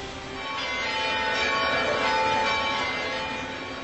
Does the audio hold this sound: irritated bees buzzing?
no